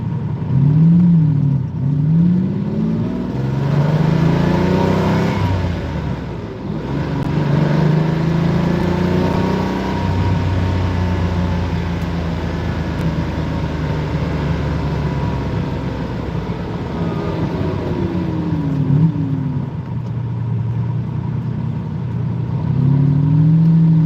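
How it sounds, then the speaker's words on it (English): Inside a Lamborghini Countach, the engine revs hard through high RPMs, climbing loudly and dropping back in repeated rising pitch sweeps between gear changes, with no talking. "It just makes such wonderful sounds in the high RPMs."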